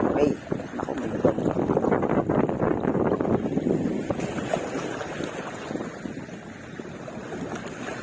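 Wind gusts at the shore during shore casting for fish, a broad rushing roar that buffets the microphone, strongest early and then easing slightly.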